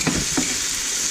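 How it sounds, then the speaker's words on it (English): An okonomiyaki is flipped onto a hot griddle, setting off a steady bright sizzle with two soft thuds and scrapes near the start as the pancake turns and lands. "We are very carefully going to flip this over"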